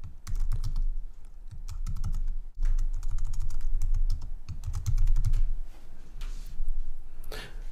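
Steady, fast typing on a computer keyboard, with dense clusters of close, crisp key clicks and a brief pause partway through. A low hum sits underneath.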